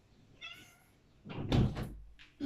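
A pet cat named Meg meows a few times at a door indoors, followed by the thunk of the door being opened, all fairly quiet.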